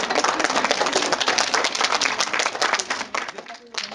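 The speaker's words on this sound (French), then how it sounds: "À moi d'applaudir." Quick, dense hand clapping, loud and close, keeps a steady patter for a few seconds before trailing off slightly.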